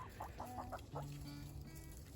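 A rooster gives a quick run of soft clucks, close by, followed by a low droning background hum.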